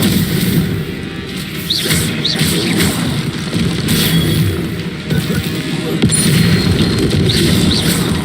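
Confringo fire spell blasts in the Hogwarts Legacy video game, several booming explosive impacts and crashes layered over continuous game combat noise, loud and close.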